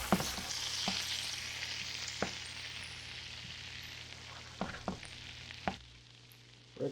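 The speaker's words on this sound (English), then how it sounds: "For good measure, we'll throw in a little bit of chopped garlic." Chopped garlic fries in a pan with a continuous close sizzle, broken by a few sharp knocks of a utensil against the pan near the end.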